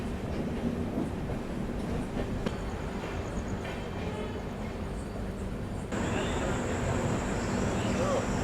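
Hubli to Nizamuddin Sawai Gandharva Express train starting to move at Gadag Junction station, a steady rumble of rail noise with station crowd murmur and voices talking throughout, brightening in the final seconds.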